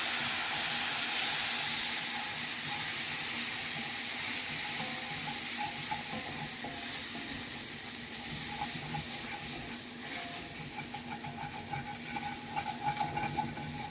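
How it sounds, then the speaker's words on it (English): Vegetable broth poured a little at a time into a flour roux in a pan for pot roast gravy, giving a steady close sizzle with stirring and light liquid spatter, no talk. "So we're just going to take a little at a time and add it in."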